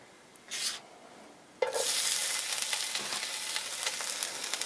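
Tempeh drops into hot coconut oil and breaks into a loud, steady sizzle that crackles on without pause, preceded by a brief clatter of something being added.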